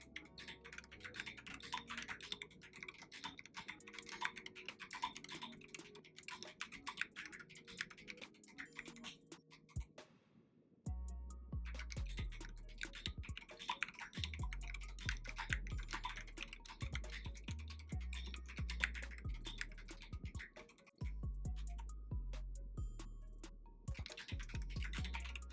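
Rapid, crisp clacking keystrokes on an Akko 3084B Plus mechanical keyboard, typed close up in a continuous run with a brief pause near the middle, each press giving a sharp click over a deeper thock and no talking.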